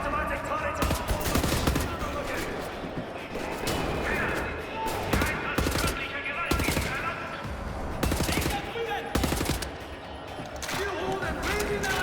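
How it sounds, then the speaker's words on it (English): An automatic turret in the shooter game Wolfenstein: The New Order fires rapid bursts of machine-gun fire, loud clustered volleys with brief gaps, mixed with thumps and game sounds, while a person talks over the action. "There's automatic turret."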